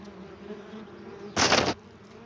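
German ground wasps at their nest in the soil outdoors make a faint steady hum, then a short loud burst of buzzing close by for about a third of a second.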